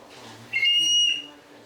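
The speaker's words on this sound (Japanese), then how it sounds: "ホイッスルボイス。" A young male audition contestant sings a very high-pitched whistle-voice note, a thin piercing tone held for about half a second, following quiet murmuring.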